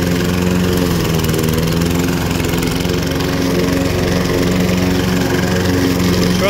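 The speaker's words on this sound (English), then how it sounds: "Trusty Kawasaki engine, what a weapon." Ride-on lawn mower powered by a Kawasaki engine runs steadily and loudly up close, a constant droning hum with no breaks and no talking.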